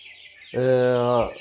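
A 42-day-old black Australorp chick gives one clear, drawn-out call of almost a second, close and loud, after a breathy background noise.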